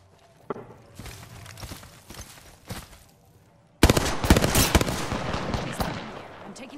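Gunfire in Apex Legends: a few scattered shots at first, then a sudden burst of loud, rapid automatic fire that keeps rattling densely to the end.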